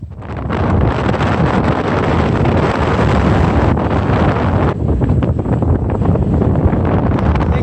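Strong, steady wind of about 25 knots with gusts near 30, from a passing cold front while sailing, roars and buffets the microphone continuously, loud and close, with no voices.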